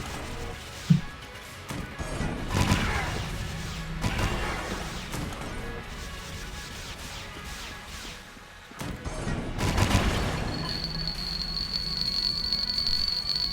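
Gunfire from teleporting bullets in Enter the Gungeon, with scattered crashing impacts and bursts over a busy game soundscape, moderately loud and irregular.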